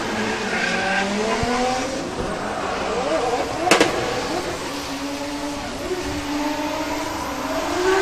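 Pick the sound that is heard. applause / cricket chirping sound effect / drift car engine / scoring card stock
drift car engine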